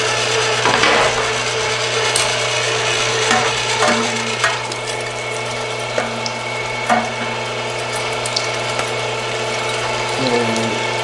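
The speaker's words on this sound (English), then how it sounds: "So now we're gonna take this through the grinder. So let's fire this thing off." A meat grinder works through seasoned Italian sausage meat, with a constant mechanical hum under grinding, rubbing and ratcheting sounds and a few sharper clicks.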